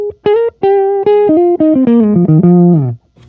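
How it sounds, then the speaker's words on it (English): Electric guitar played on the neck pickup with the tone knob rolled fully down, giving a dark, rounded sound. About ten plucked single notes form a short phrase that steps downward, played alone and up close. "switch to the neck pickup, roll my tone all the way down"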